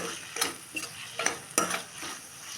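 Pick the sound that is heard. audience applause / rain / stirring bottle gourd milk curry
stirring bottle gourd milk curry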